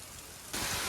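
Heavy rain pours down on a village farm during a groundnut harvest, starting as a softer hiss and then swelling abruptly into a loud, dense, continuous roar halfway through.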